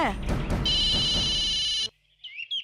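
A telephone rings with an incoming call, a loud, sustained electronic ring that cuts off abruptly, with a voice speaking over the start and after it stops.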